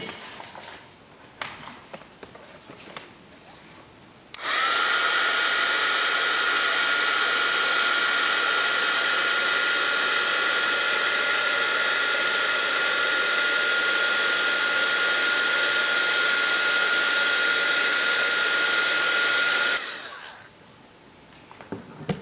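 A heat gun setting embossing ink on a handmade Christmas card roars on loudly and steadily for about fifteen seconds, then cuts off, with quiet handling clicks before and after.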